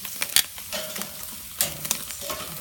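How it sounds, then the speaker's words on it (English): Pesto chicken wings sizzle steadily on a grill with crackling hiss, broken by a few sharp scraping or clinking bursts nearby; no voices. "Can y'all hear that sizzle?"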